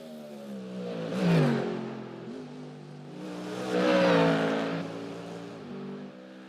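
Ford Mustang race car in iRacing at the Nürburgring 24-hour race, its engine revving up and down through two strong acceleration swells with gear changes between, a continuous close roar alone.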